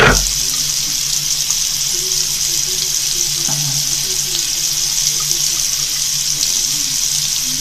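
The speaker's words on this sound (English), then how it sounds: "wash your hands with it. really, really, really soapy." Steady running tap water while soapy hands are washed, a continuous hissing splash starting abruptly and holding at an even level throughout, close and moderately loud.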